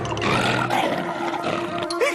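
A cartoon wolf lets out a loud, sustained roar for about two seconds, rough and growling, with cartoon background sound mixed in and no talk over it.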